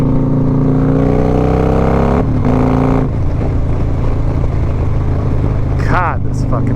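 A cammed Harley-Davidson Road Glide motorcycle accelerates hard, its engine a steady, loud, close rumble that climbs in pitch as it revs, with wind noise and a rising shift toward the end.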